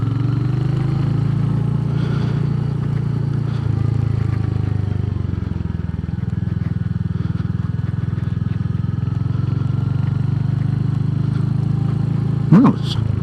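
Royal Enfield HNTR 350 motorcycle riding over muddy off-road ground, a steady close engine drone with low thumping and light clatter, loud and continuous, with a brief sharp knock near the end.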